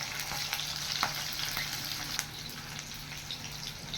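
Rohu fish pieces fry in a pan over full heat with a continuous close sizzle, broken by occasional sharp spits and crackles.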